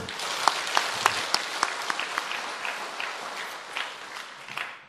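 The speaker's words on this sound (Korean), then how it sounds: "야, 박수 한번 해줘요." A church congregation claps during a sermon, a burst of applause with sharp individual claps standing out early on, then thinning and tapering off over a few seconds.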